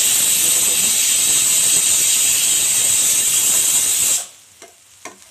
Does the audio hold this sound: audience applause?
no